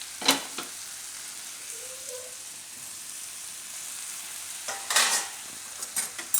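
Gunda is tossed into a pan of gunda keri methi shaak and mixed. A low sizzle runs throughout, broken by bursts of spoon-and-pan clatter at the start and again near the end.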